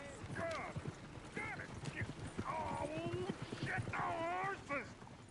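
Horses clip-clopping in the Wild West video game Red Dead Redemption 2, a busy patter of hooves under whinnies, dog barks and overlapping game voices.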